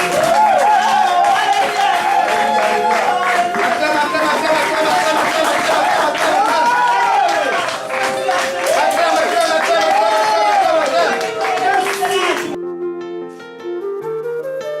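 A church congregation claps and shouts praise loudly over an amplified voice, and music plays with them. The crowd noise is dense and continuous, then it drops away near the end and a keyboard melody carries on alone.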